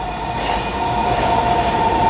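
A Brussels metro train rumbles steadily through a station, a loud continuous roar with a sustained high tonal whine from the wheels or motors, close by and with no voices.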